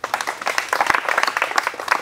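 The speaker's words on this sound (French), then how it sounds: "Applaudissez pour mon grand frère." An audience claps for a performer at a traditional flute show, a lively burst of many hands, close and loud, with some voices among it.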